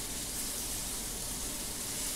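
Rainbow trout fillets sizzle in a frying pan, a steady, even crackling hiss close up with no talking.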